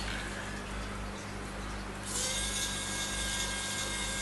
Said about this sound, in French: on va dévisser le boîtier de la petite radio avec.